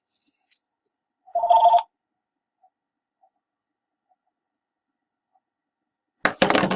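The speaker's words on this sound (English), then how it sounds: "Sorry, phone call." A phone rings during a math lecture in a quiet room: a short electronic tone burst, then near silence, then a louder, busier ring at the end.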